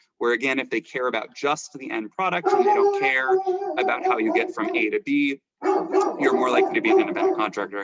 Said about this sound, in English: I'm sorry for setting off a chain reaction of dog barking